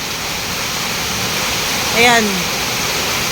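Strong floodwater rushes during Typhoon Aghon, a loud, steady roar of pouring water close by, with a person briefly speaking over it partway through.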